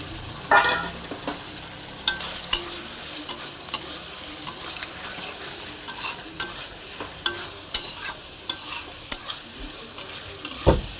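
Fried cauliflower tossed with green and dried chilies and spices in a pan, a soft sizzle under repeated scraping stirs and spatula clicks, close and steady.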